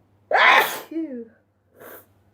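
A single forceful sneeze up close, followed by a brief voiced exclamation and a softer breathy sound a moment later.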